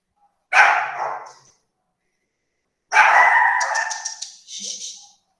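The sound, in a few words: dogs barking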